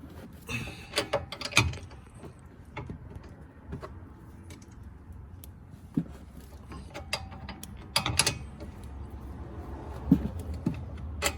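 A breaker bar loosening a sway bar link nut on a Porsche 986 Boxster, with faint irregular clicks, creaks and metallic knocks up close and no talk.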